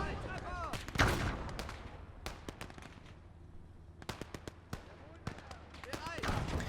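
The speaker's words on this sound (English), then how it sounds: "Let's wait for the machine guns to reload and go for the outside reload noise." Machine guns firing in the World War II game Gates of Hell: clustered bursts of sharp, close cracks, a quieter gap during the reload, then more bursts.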